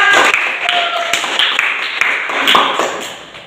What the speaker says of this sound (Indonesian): Kasih aplaus buat yang kedua.